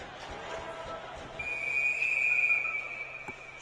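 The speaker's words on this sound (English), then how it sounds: "And a whistle." A sharp, high referee whistle blows once for about a second over a murmuring crowd in a large hockey arena.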